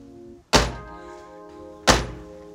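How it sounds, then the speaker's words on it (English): Door of a classic Porsche 911 shutting: two solid, heavy thunks about a second and a half apart, each sharp at first and then fading into a steady background tone. "who doesn't love the sound of a well closing door?"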